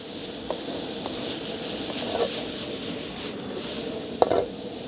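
Crickets and shrimp fry in a hot pan with a steady low sizzle and a few scrapes of stirring, close and moderately loud, with no talk.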